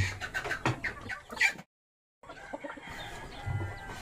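Chickens on a small poultry farm cluck and squawk in short, irregular bursts nearby, with a brief silent gap partway through.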